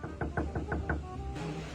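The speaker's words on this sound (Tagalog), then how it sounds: "May kumakatok." Six quick, evenly spaced knocks land on a door close by, followed by a brief rush of room noise.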